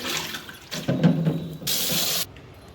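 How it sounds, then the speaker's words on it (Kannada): Raw prawns are washed under a running kitchen tap, giving splashing, gurgling water bursts that swell and stop in short stretches. "ಮೊದಲಿಗೆ ನಾವು ಈ ಪ್ರಾನ್ಸನ್ನು, ಸೀಗಡಿಯನ್ನು ಒಂದು 3-4 ಸರಿ ಈ ಥರ ತೊಳ್ಕೊಳ್ಳೋಣ"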